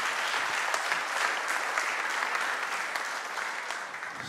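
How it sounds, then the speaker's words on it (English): Audience applause at a church service fills the room, a steady dense clapping from a crowd that holds evenly throughout and tapers slightly toward the end, with no talk over it. "give her a round of applause."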